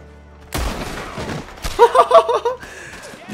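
A heavy elephant rifle fires in Red Dead Online, a single loud booming shot with a sharp onset, followed by a burst of rapid reverberant cracks and rumbling echoes that trail off.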